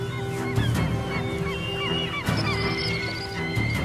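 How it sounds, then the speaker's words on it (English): Flocks of birds honk and call near fishing boats trawling icy Japanese waters for salmon and pollock, with repeated goose-like cries overlapping in bursts above a steady low drone. "Flocking from sheltered valleys, birds time their arrival with these daily excursions"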